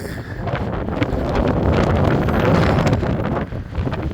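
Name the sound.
wind blowing into microphone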